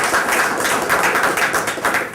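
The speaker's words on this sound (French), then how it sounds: "Fait que moi, j'applaudis." Applause at an Opération Nez Rouge event as swimmers are named: a steady, dense patter of clapping hands lasting about two seconds, close and fairly loud, with little else over it.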